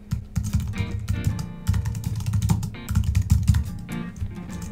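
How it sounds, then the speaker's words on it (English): Someone types a short message on a computer keyboard, with rapid, close, irregular bursts of key clicks separated by brief pauses. "I'm going to type them a little message as well."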